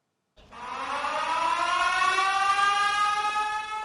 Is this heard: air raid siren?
yes